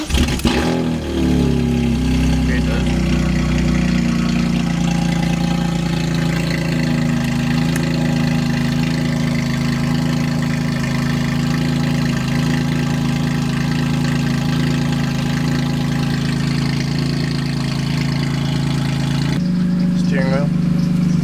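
BMW M3 GTR race car engine fires up early and then holds a loud, steady idle with a deep, rumbling drone, its pitch shifting slightly near the end.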